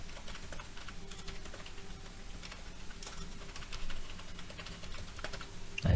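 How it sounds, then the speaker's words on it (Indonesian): Steady typing on a computer keyboard, with a continuous patter of close, quiet key clicks and no talk. "Jadi ketika ini ya, kita ketik."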